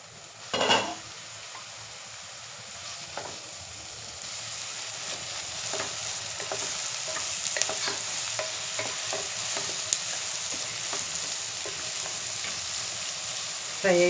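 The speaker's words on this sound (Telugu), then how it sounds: "ఇప్పుడు ఒకసారి చూద్దాం ఆనియన్ ఎంత ఫ్రై అయిందో" Onions frying in a pan for a spinach chicken curry, with a steady close sizzle and repeated scraping stirs and clinks of the utensil against the pan throughout.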